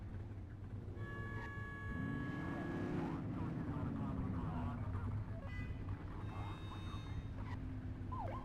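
A police car's wailing siren in a video game sweeps up and down over a steady engine drone, with short alert tones and game-style background sounds.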